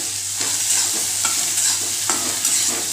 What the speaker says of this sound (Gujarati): ટમેટાને પણ સરસ આપણે મિક્સ કરી લઈશું.